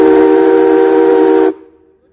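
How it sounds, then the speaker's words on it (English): A reproduction Maine Central 470 steam locomotive whistle blows loud and steady with a chord-like tone for about a second and a half, then cuts off abruptly. "This is a reproduction of Main Central 470 whistle."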